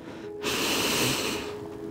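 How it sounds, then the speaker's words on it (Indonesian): A single deep, forceful breath drawn in through the nose during a prone-positioning breathing exercise, close and loud, lasting about a second before easing off. "kemudian kita tarik nafas"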